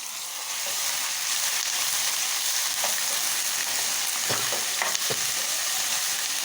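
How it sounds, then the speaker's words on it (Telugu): Eggs seasoned with salt, chilli powder and turmeric sizzle steadily in a pan, a loud close hiss of frying oil running throughout with occasional soft stirring knocks. "ఇటు ఒక ఎక్స్ని ఫ్రై చేస్తున్నాను ఉప్పు కారం పసుపు కలిపి ఇప్పుడు ఇక్కడ ఫ్రై అవుతున్నాయి"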